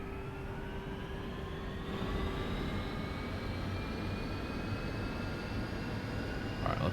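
Light aircraft engine of a TorqueSim Pocket Rocket in a flight simulator, a steady drone whose pitch climbs slowly as RPM rises, with rising whine tones, continuous and fairly loud with no talk.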